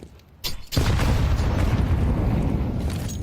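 Grenade stack exploding in a Counter-Strike match, a sharp pop followed by a heavy, sustained booming blast that fills the space and lingers with rumbling debris.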